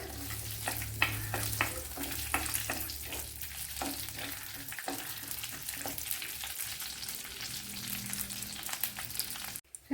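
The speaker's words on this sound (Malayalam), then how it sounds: "കുറച്ച് നെയ്യ് ഒഴിച്ചു കൊടുത്തിട്ടുണ്ട് ഗീ അതിലേക്ക് കുറച്ച് ക്യാഷ്യൂനട്ട് ഇട്ട് കൊടുക്കാം പിന്നെ ഒന്ന് ഫ്രൈ ചെയ്ത് മാറ്റാം" Cashew nuts fry in hot ghee with a steady bright sizzle, and scraping stirs tick through it from time to time. The frying is close and carries on alone the whole way through.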